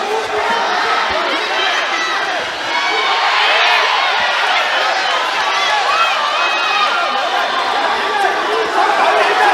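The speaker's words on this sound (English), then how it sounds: "the crowd are cheering for this golden score" Dense, continuous crowd cheering and excited chatter filling an arena during golden score at a judo Grand Slam final in Ulaanbaatar, staying loud and steady throughout with scattered shouts and whoops.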